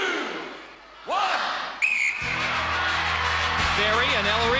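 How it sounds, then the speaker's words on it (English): A referee's whistle blasts once sharply at the start of a Gladiators chase in a televised arena, followed by a roaring crowd and loud music, with shouted voices rising over the noise. "Gladiators, you will go on my second whistle."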